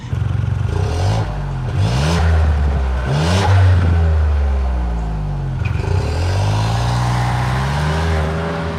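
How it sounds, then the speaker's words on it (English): Ford Escape with a 3-cylinder engine accelerating through several gears, the revs climbing and dropping with each shift, a close, fairly loud engine tone with no talk. "first impressions of this 3-cylinder"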